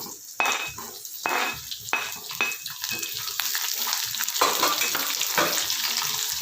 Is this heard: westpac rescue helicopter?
no